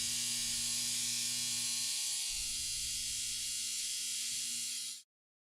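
A clothes dryer timer buzzes in one steady, harsh, hissy drone for about five seconds before cutting off abruptly into silence.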